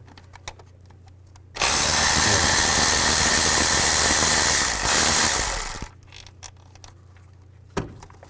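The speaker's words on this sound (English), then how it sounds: "Now we're going to take the nuts and bolts out for the intake. Use a 10mm socket." Ratchet with a 10mm socket backing out intake bolts on a 2005-2015 Nissan Xterra during a driver side valve cover job: one loud, dense mechanical burst of about four seconds, close up, with faint clicks before and after and no talking.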